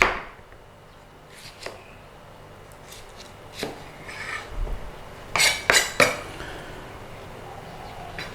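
A knife cuts green pepper into strips on a cutting board, with sparse soft taps early, then a cluster of sharp, close chopping knocks in quick succession near the end.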